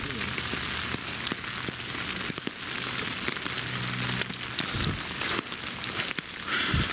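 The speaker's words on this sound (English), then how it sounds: "Looks like the rain calmed down a little bit." Steady rain falls outdoors on a trail, a dense close patter of drops hitting surfaces throughout, with occasional louder taps and a voice speaking now and then.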